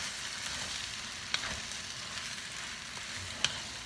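Bottle gourd (upo) with shrimp sizzling and being stirred in a frying pan, a steady close crackle of hot oil with a couple of sharp clicks from the utensil against the pan.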